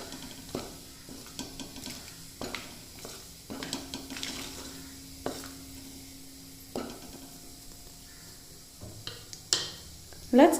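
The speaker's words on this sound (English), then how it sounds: "I'm going to add in all the garam masalas to the oil. We're just going to saute these for about a minute." Garam masala spices sauté in hot oil in a pan for a mushroom korma, giving a soft, steady sizzle broken by sharp clinks and taps of stirring against the pan, close by and fairly quiet.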